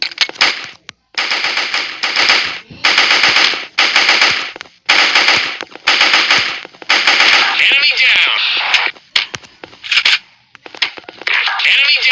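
Rapid automatic gunfire from the online shooter Special Force, loud and close, in repeated sustained bursts separated by brief pauses, with occasional single shots and a few spoken words between volleys.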